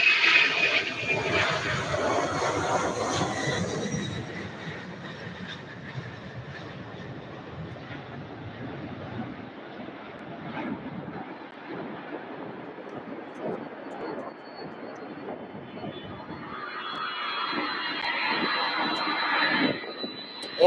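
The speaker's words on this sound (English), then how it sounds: "rolling down the runway, we have UPS Airlines flight 5218 going to Baltimore, Maryland" A UPS Airlines jet on its takeoff roll at Louisville airport, bound for Baltimore, gives a broad, steady engine roar that holds for about twenty seconds and swells again near the end, heard alone at a distance.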